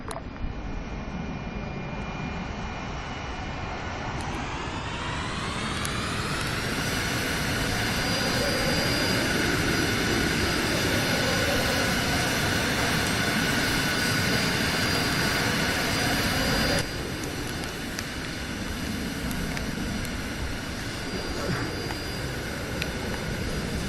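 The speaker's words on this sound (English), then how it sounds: "We're going to get us into this jet, take off, and we're going to close this up." A jet aircraft engine in the Arma 3 game spools up over several seconds into a loud, steady roar with a high whine on top, then holds for a long stretch, with no voices.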